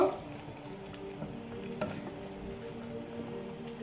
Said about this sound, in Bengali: এখন এটা তরকারিতে মিক্স করে দেব।